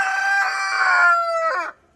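A rooster inside a homestead chicken house lets out one loud, close cock-a-doodle-doo lasting nearly two seconds, ending in a falling note before quiet.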